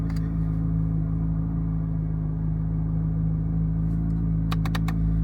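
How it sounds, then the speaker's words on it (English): A Chevrolet Corvette Z06 idles with a deep steady rumble in downtown traffic in light drizzle, the engine holding a constant low drone with a brief lift of revs near the end. "Y'all heard that little rev there?"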